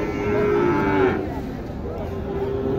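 A large, tall cow at a crowded cattle market moos in a long, loud, drawn-out call lasting about a second, then a low market murmur continues underneath.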